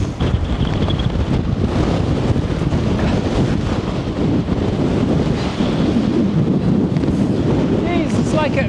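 Strong gusting wind while wild camping in the Lake District, loud and continuous as it buffets the microphone, with a voice briefly audible under the roar.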